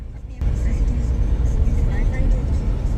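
A car engine hums and rumbles steadily from inside the moving vehicle on a highway road trip, cutting in sharply after a brief quiet start and staying loud throughout, with faint voices in the cabin.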